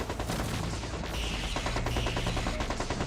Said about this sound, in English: look at all these missiles flying around.